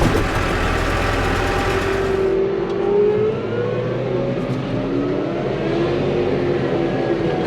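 A tractor engine labours steadily and loudly while pulling the tractor free on a farm, a continuous rumbling drone that shifts pitch as the load changes, with no talk.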